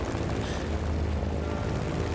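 A plane's propeller engine drones steadily in the video game Just Cause, a continuous even hum with no talk over it.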